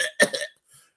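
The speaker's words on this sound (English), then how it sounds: "Let me clear my throat." A man clears his throat in one short, rough burst up close, followed by a faint trailing sound and then quiet.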